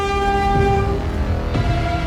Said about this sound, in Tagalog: Pakibaba muna po lahat ng mga karga natin kasi may dadaan na tren ha.